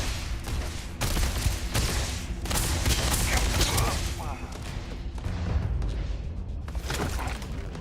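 Enemy gunfire in the video game Starfield, a dense ongoing battle of shots and booming impacts that is loud and continuous, with a player's voice talking over parts of it.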